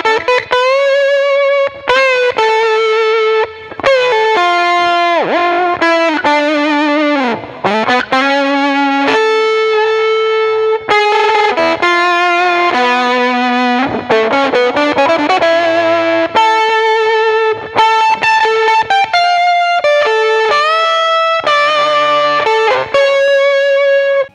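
Electric guitar played through a virtual amp in Logic with tape delay, a loud, distorted run of sustained notes and phrases with echoing repeats and short breaks between them, no talking.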